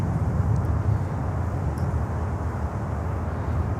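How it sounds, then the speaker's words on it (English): An Aerolíneas Argentinas airliner passing at a distance, a steady low broadband rumble with no talk. "There goes Aerolíneas Argentinas."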